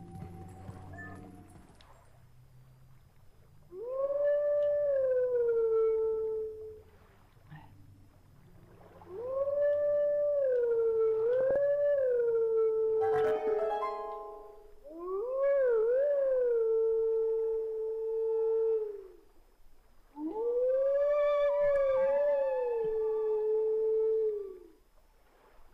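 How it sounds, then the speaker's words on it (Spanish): A wolf in the video game The Legend of Zelda: Twilight Princess howls a melody in four long, clear, wavering tones separated by pauses, loud and alone with only faint game sounds between. "quizás puedas sentarte ahí y aullar la misma melodía."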